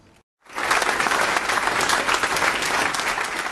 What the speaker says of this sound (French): C'est un tonnerre d'applaudissements qu'a reçu le couple présidentiel samedi lors de son entrée dans cette salle polyvalente